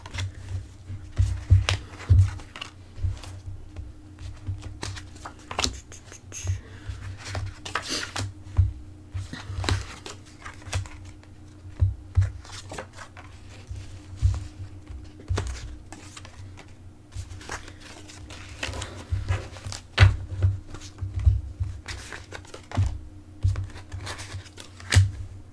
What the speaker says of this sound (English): I have shuffled the cards off camera, but I'm doing it here.